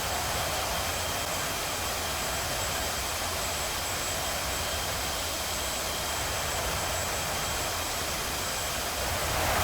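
Jet engine of an F/A-18C Hornet in DCS World roars as a loud, constant broadband rush with a faint steady whine, unbroken and without talk.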